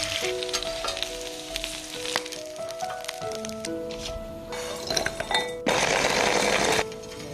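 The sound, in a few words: food being pan-fried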